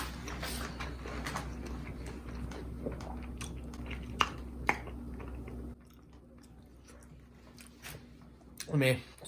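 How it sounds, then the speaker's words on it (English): Close, wet chewing of bites of a Kicken Chicken Slim sandwich, with crunchy smacks and a few sharp clicks. The background drops quieter midway, and a short squeak comes near the end. "So I'm gonna go for a few more bites"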